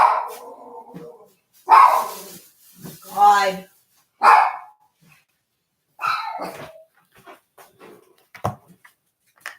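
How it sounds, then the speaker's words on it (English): Dogs bark in several separate bursts, some yipping and whining, nearby and loud, with a person's voice interjecting briefly between them. "I don't know what's with all the barking today"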